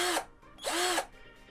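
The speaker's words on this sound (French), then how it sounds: "On constate que c'est un moteur à balai." A WISH 48V cordless drill-driver with a brushed motor runs in two short bursts, each whirring up and winding down, the second longer, close and clear with quiet gaps between.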